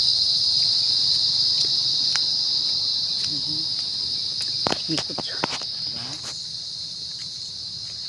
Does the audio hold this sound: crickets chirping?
yes